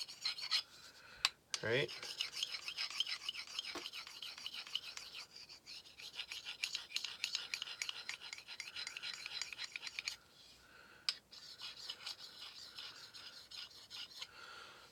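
A tracker-style knife is drawn across a handheld field sharpener with repeated close, raspy strokes. A voice speaks briefly.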